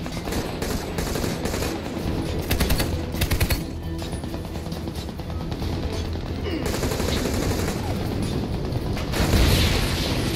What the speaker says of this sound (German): Wir müssen was gegen das MG unternehmen.